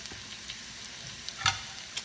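Garlic and bay leaves sauté in a pan, a steady close sizzle and crackle with a few soft stirring scrapes and no voices.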